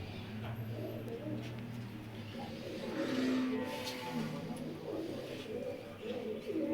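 Pigeons cooing in soft, repeated low calls, fairly close, with a few faint chirps and some background noise throughout.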